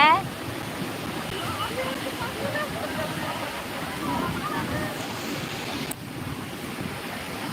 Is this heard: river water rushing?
yes